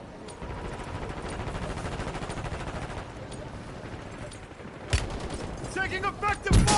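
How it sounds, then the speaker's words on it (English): Gunfire in Call of Duty Warzone: a steady rapid rattle of automatic fire, then sharper louder bursts near the end, with voices talking over the shooting. "Taking effective fire!"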